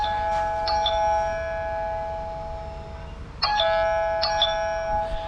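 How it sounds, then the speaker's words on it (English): A Tapo smart doorbell chime rings out with bright, sustained electronic ding-dong tones, sounding twice in bursts and then repeating a few seconds later over a low background hum in a workshop. "Don't buy one of them tapo doorbells."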